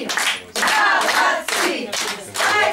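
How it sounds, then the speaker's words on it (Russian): An audience at a Maslenitsa celebration in a library claps in several loud bursts of dense, close applause separated by short pauses. "бурное аплодисменты"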